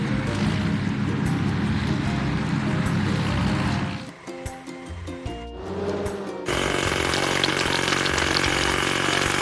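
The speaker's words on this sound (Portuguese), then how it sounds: "Martelo hidráulico." Hydraulic hammer breaking large rocks in a construction video game, a loud, steady mechanical pounding that drops out briefly midway, then resumes over game music.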